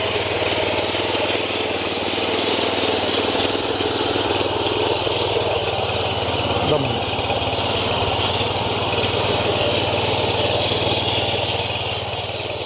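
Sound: power weeder engine running while tilling soil

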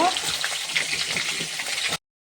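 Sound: potatoes frying in pan with spices

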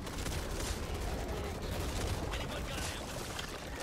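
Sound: gunfire in video game Back 4 Blood

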